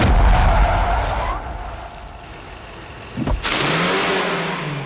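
A jeep engine revs hard in a film scene, a loud roaring burst that eases off, then a sudden thump and a second surge of revving as the vehicle strains to pull away.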